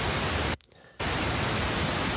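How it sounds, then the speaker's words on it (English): Loud broadband pink noise test signal hisses continuously, cutting out abruptly for under half a second before resuming at the same steady level. "So that's just pink noise."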